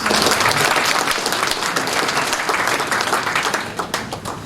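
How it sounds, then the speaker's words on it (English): Audience applause at a certificate presentation by a medical cannabis authority, many people clapping in a dense, steady wash that starts loud and eases slightly toward the end, with no talking heard. "Give him another round of applause."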